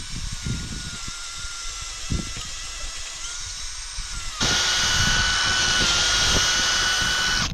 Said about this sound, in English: Then I can go ahead and drill it.